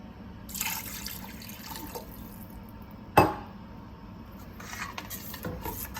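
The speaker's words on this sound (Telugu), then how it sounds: "ఒక గ్లాసు వాటర్ కూడా పోసుకోవాలి." A glass of water poured into an egg curry with tamarind, making a short splashing gush in the middle after quieter handling and scraping sounds, heard close with no talk.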